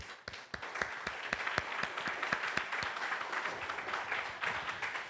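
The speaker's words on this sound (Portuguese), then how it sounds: "Lindos aplausos" A church congregation claps steadily together during a worship service, sharp hand claps repeating at an even rhythm, moderately distant, with no talking.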